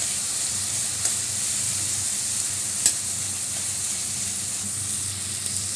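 Chopped onion sizzling in a pan, a dense, even hiss holding steady throughout, with a couple of faint clicks from the cookware.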